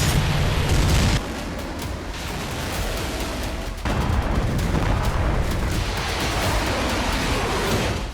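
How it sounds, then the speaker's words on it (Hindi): North Korean military explosions, a dense continuous roar of booms and rumbling blasts that stays loud throughout, with a heavier low burst at the start and sharper cracks scattered through, with no voices. "लगता है धमाकों का शोर ही किम जोंग को सुकून देता है"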